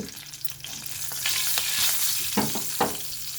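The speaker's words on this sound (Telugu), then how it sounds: "ముందుగా ఆయిల్లో కొంచెం పసుపు వేసుకుందామండి. కొద్దిగా సాల్ట్ కూడా వేస్తున్నాను." Turmeric and salt fry in oil in a pan, a bright crackling sizzle broken by several stirring scrapes that swell and fade, close and fairly quiet with no voices.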